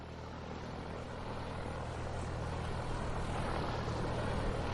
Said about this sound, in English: Plane is in position for takeoff.